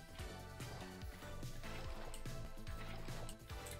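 Lava is poured to build a portal in Minecraft, a soft bubbling, gurgling liquid flow heard faintly beneath steady background music.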